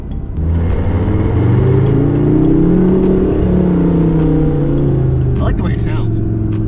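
A Lamborghini LP 570 with a Klein cat-back exhaust revs and rumbles loudly, pitch climbing and falling in deep sweeps, with a brief rattle near the end.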